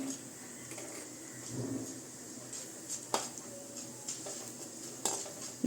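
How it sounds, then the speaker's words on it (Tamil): Mustard seeds crackle and splutter in hot oil, with a steady sizzle and scattered sharp pops, plus occasional clinks of a utensil against the pan. "இப்போ கடுகு வெடிச்சிருச்சு"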